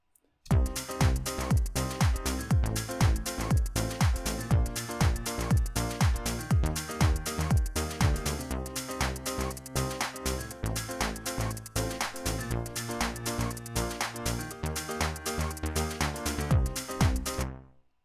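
An electronic track plays with punchy, steady drum hits and layered synth tones, a continuous rhythmic beat from start to end.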